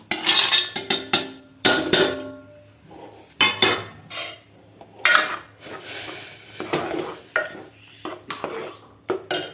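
Peanuts being mixed and fried in a pan, heard as a series of loud, close scraping and clattering bursts of utensil against metal in uneven rhythm, with quieter pauses between.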